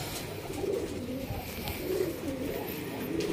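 Pigeons coo in a newly built loft, repeated soft throaty calls rising every second or so over a steady hiss, close by and moderately loud.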